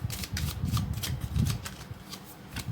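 Tarot cards are shuffled and drawn close by, with quick, soft riffling and papery flicks in a steady rhythm.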